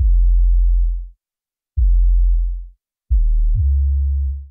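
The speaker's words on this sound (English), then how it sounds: "And with the high cut, you just hear the bass." Three deep sub-bass notes pulse in turn, smooth and round with no bright edge, each holding for about a second before fading.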